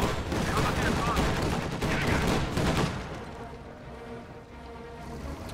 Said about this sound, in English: AA half track on the field now, going to be firing at those Jaegers.